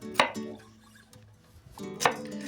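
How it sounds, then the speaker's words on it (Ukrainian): An onion being cut with a knife while preparing stuffed cabbage rolls: two sharp, close chops about two seconds apart with quiet kitchen sounds between, no talk. "Остальну цибулю я поріжу"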